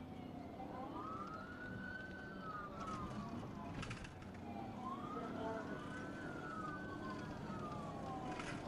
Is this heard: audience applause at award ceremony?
no